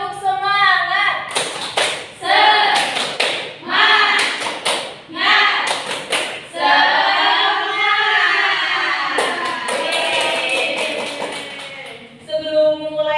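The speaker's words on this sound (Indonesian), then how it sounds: "Tepuk semangat." A classroom group performs a rhythmic spirit clap, bursts of loud patterned claps alternating with chanted voices of the teacher and children.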